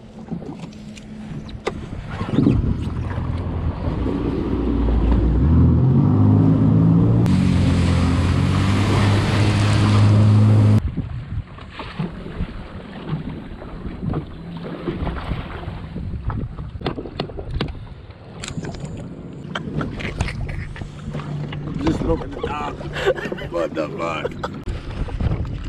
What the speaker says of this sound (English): we got a giant boat coming right at us